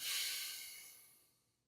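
A person breathes out after holding their breath, one long breathy exhale that starts strong and close, then fades gradually to silence over about a second and a half.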